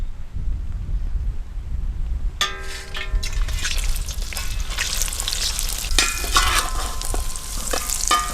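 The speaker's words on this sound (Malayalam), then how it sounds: "അണ്ടിപ്പരിപ്പ്, മുന്തിരി വറുത്തെടുക്കുക." Cashew nuts and raisins fry in hot oil with a steady sizzle and the scrape of a stirring spoon, the crackle rising sharply partway through and staying loud and close.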